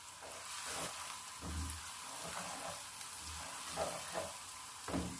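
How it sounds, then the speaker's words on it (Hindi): Garlic and ginger paste frying in a pan for a chicken and cauliflower curry, a steady close sizzle with a few soft scraping stirs, no talking. "दो मिनट तक लहसुन अदरक को हम भून लेंगे"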